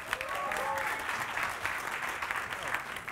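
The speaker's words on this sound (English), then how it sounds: "Send them on their way with some applause" An audience at a FameLab 2017 international science-communication semi-final claps to send the judges off to deliberate. The steady, full applause has a host's voice and crowd noise running through it.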